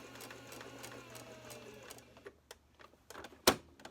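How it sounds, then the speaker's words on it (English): A sewing machine stitches fabric for a dog diaper, running fast and steadily for about two seconds before stopping. Scattered clicks and one sharp snap follow near the end, all fairly faint. "Raise the presser foot, pivot, stitch to within 1/4 of an inch on this side."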